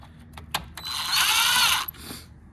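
A wrench works a bolt on a 2013 Jeep Wrangler headlight mount with plastic parts, giving a few quick ratcheting clicks and then a sustained bright mechanical ratchet run lasting under a second, close and fairly loud, with no talking.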